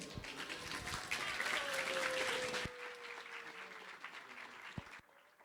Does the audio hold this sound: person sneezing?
no